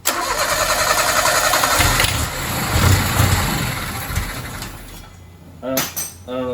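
A John Deere 322 lawn tractor engine cranks and fires on starter fluid, running loud and rough for several seconds before sputtering out, followed by a few short bursts as it tries to catch again.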